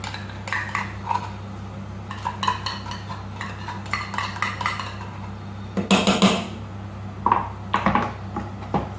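A utensil scrapes and clinks against a pan while tomato paste is stirred into a pork roast hunter sauce, in uneven bursts over a low steady kitchen hum.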